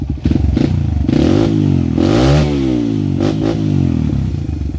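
A 2003 Honda XR100 pit bike engine runs loud and close, its pitch rising and falling through several revs with mechanical clatter, no talking over it.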